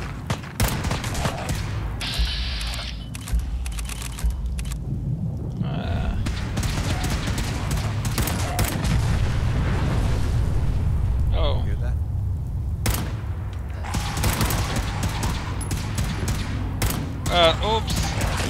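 Rapid pipe rifle gunfire in Fallout 4, bursts of sharp cracks and booming impacts repeating throughout, mixed with game effects while a person talks over the shooting.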